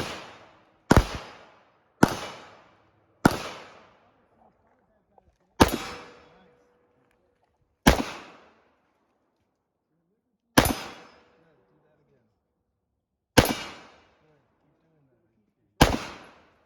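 Nine sharp pistol shots fired on a range during firearms training, each a loud close crack with a quick decaying echo, spaced irregularly one to three seconds apart with silence between.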